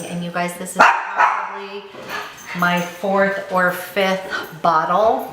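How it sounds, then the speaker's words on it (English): A pet dog barks repeatedly at close range, a string of sharp yaps and bow-wows indoors, overlapping with someone talking. "excuse my dog"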